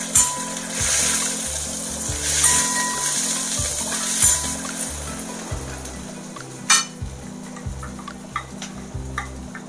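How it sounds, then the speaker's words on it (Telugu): Onions frying in a pan while cooking a North Indian dahi bhindi okra dish, a steady close sizzle with stirring scrapes and occasional clinks, under a repeating low rhythmic background pattern. "ఇక్కడ మనకు ఆనియన్ కూడా ఫ్రై అయిపోతుంది."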